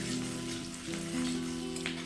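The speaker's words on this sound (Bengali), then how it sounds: "রসুন কুচি আদা কুচি হালকা ভেজে নিয়েছি" Chopped ginger and garlic fry lightly in oil for a restaurant-style dry chilli chicken, producing a soft continuous sizzle under a steady low tonal hum from nearby.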